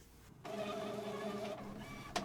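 An Epson XP-55 inkjet printer resetting after repair, with mechanical whirring and buzzing of the print head and motors, steady tonal drones, then a short click near the end, fairly quiet and close.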